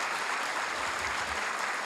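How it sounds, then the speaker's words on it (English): Audience clapping steadily at a City Hall volunteer awards evening, a dense, even patter of many hands filling the room throughout. "let's give a big round of applause to all the honorees and all the awardees"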